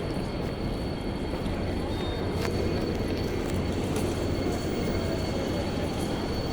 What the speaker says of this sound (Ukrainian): Ось тут теж можна очікувати поїзд.